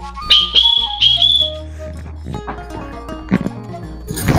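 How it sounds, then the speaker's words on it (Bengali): A whistle blown at night sounds several short, shrill, piercing blasts in quick succession up close, then gives way to quieter rustling and scattered low thumps. "রাতের বেলা বাঁশি বাজানো শুরু করছে"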